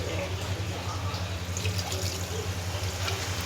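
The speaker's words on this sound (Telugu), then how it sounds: "ఒక గ్లాస్ నీళ్ళు పోద్దాం." Water from a glass being poured into curry masala for a stuffed brinjal curry in a home kitchen, a soft, steady splashing trickle that runs continuously for a few seconds beneath low background hum.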